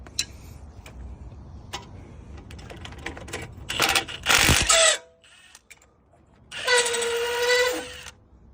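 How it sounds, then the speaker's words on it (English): Impact gun loosening the front brake caliper guide pins on a 2016 Mercedes GL550: close clicks and light tool handling, then two loud rattling hammering bursts of a few seconds each, separated by a quiet gap. "once you loosen it, you can use a gun, impact gun, and you can loosen it"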